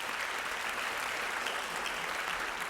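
Banquet audience at the Waco High School academic achievers event applauds the sophomores, dense continuous clapping throughout, loud and even with no gaps.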